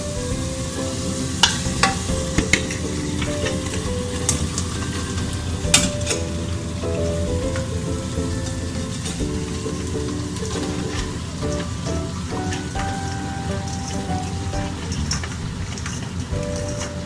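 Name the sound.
bottle gourd and ridge gourd frying and stirred in masala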